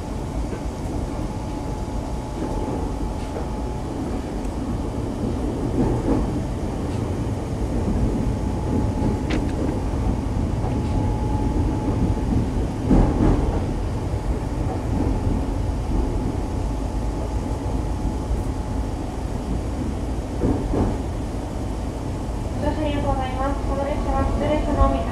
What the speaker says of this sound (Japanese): This is a 常磐 line train for 水戸